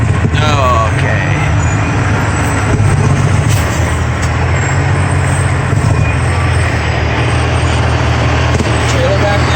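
A three-axle log truck grinding up a steep switchback on a logging road, its loud, steady low engine drone and rumbling body dominating close by, with a voice faintly under it.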